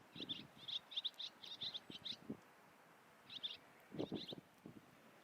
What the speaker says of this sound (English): you will get to hear the different sounds that this bird makes